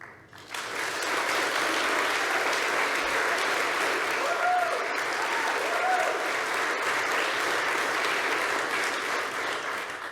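Sustained, dense applause from a large forum audience on the Voice to Parliament fills the whole stretch, loud and steady with no speech over it.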